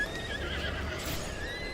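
A horse in the video game Breath of the Wild neighs in a drawn-out, wavering whinny, loud and close over a steady game background, with no talking.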